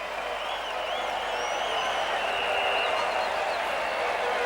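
Cricket crowd at a West Indies v England one-day international in Jamaica, 1990, applauding and cheering after a fast bowler sends the stumps flying; loud, sustained roar and clapping with whistles throughout.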